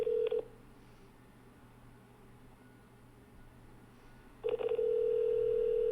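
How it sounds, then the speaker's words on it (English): A telephone call to a GameStop store is heard on the line. A tone sounds at the start, a long quiet hiss follows, and then a second tone begins and holds steady. "Please pick up the phone."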